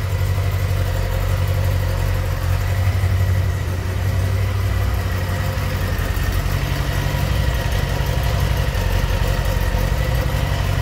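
A Honda Goldwing GL1100 Interstate motorcycle engine idling while warming up, a steady low rumble with an even, continuous drone and no revving, close and loud throughout.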